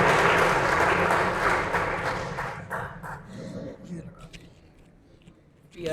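Applause from an audience at a district-level elementary prize distribution ceremony, loud and full at first, then thinning and fading over several seconds while a voice and scattered hall noises come through underneath.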